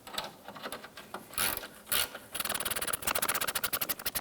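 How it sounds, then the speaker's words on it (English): A ratchet tightens an engine mount nut on a 2005-2007 Ford Five Hundred, with a few scraping strokes followed by fast, rhythmic ratcheting clicks, close and clear. "get that nut installed there. And let's go ahead and tighten that down."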